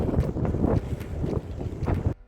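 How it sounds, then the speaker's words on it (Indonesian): Strong wind gusts against people walking on an island beach, buffeting the microphone in loud, uneven rumbling bursts that rise and fall before cutting off. "kita melawan angin coy"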